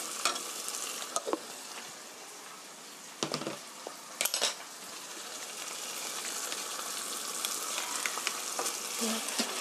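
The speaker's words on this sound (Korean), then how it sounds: "토마토의 신맛이 좀 날아가게. 1minute 1분 정도 볶아주세요." Tomato sauce sweetened with brown sugar stir-fries in a pan, giving a steady close sizzle and hiss throughout, with a few sharp scrapes and knocks of a utensil against the pan.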